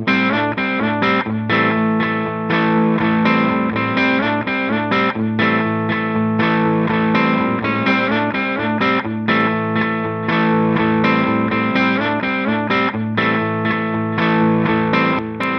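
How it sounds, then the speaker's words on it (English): Electric guitar played through an LA Studio compressor preset into a vintage digital delay with a slight edge of distortion, a loud, sustained run of chords and notes with echoing repeats. "There may be a little bit of edge of distortion going on the vintage digital delay."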